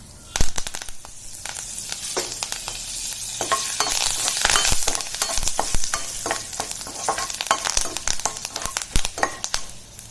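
Dry chilies and curry leaves fry in hot oil while being stirred, giving a steady loud sizzle dotted with sharp crackles and pops throughout.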